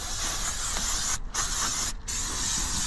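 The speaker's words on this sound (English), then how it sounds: "Give it a good dose of brake cleaner in case I've got anything anywhere" Aerosol brake cleaner hisses in long, steady bursts onto a Porsche 924 brake disc, loud and close, with two brief pauses where the spray cuts off.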